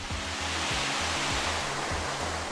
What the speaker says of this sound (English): One of the best pools at Poca de Dona Beija has a thin curtain waterfall that you can sit behind